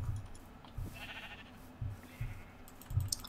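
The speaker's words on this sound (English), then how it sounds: "Oh, there's loads of sheep." Sheep in Minecraft give a few short, soft bleats spread across a few seconds at low volume, with faint clicking sounds from the game in the background.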